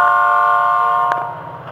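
Florida East Coast Railway locomotive FEC 709 sounds its horn in one loud, steady multi-tone blast that holds for about a second before trailing off.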